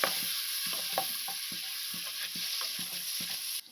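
Onions with turmeric fry in a pan, a constant close sizzle broken by rhythmic scraping and stirring strokes repeated every fraction of a second, with no voices.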